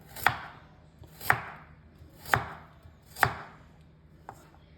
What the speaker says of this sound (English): You can then chop them into half, so you pretty much get the similar size